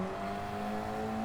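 A KTM X-Bow R race car in Gran Turismo accelerates hard out of a corner, its engine holding a loud, steady high-revving drone throughout with no voices.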